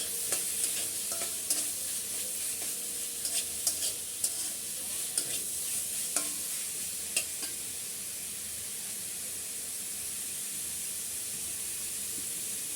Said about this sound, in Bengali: সেই চিকেনগুলো আমি দিয়ে দিলাম এখানে